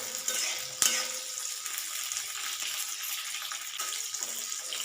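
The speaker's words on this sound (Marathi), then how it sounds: "मिरच्या भाजून घ्यायच्या. या लालसर होईपर्यंत भाजून घ्यायच्या." Green chillies roasting in a hot pan for a lemon-chilli side dish, giving a soft continuous sizzle with a few light clinks and stirring knocks, fairly faint and steady, with no talking.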